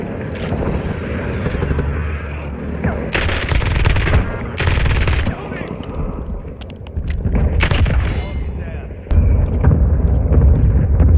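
Rapid automatic gunfire in a Call of Duty Warzone match, loud bursts of weapon fire stacking in close succession with heavy booming bass, while a player talks over the shooting.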